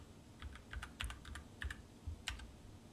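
Clicky keystrokes on a computer keyboard as a command is typed during a Minecraft session, about a dozen separate taps in uneven bursts, close and fairly quiet over a low background hum, with no talking.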